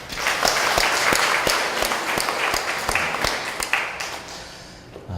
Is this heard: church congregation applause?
yes